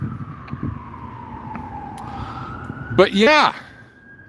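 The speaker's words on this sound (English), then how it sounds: "that doesn't sound like the kind of sirens that come for us" Wailing emergency sirens sweep past outside, a long falling tone with a burst of rapid yelping warble near the end, heard over a low background rumble while a voice speaks briefly.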